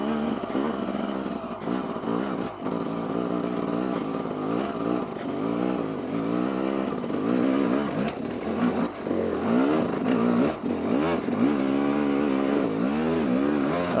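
A Yamaha YZ250 dirt bike fitted with a big bore kit climbs over loose rocks, its two-stroke engine lugging and revving in repeated rising and falling bursts, loud and steady at close to moderate distance.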